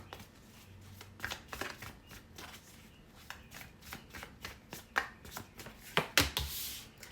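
Light papery riffling and soft slaps of tarot cards being shuffled repeatedly, irregular bursts close by, ending in a quick flurry.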